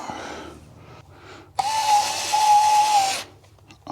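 A Bosch power tool drives screws into a wall while mounting a defibrillator, one loud whirring burst of about a second and a half, close and alone after quiet handling noises.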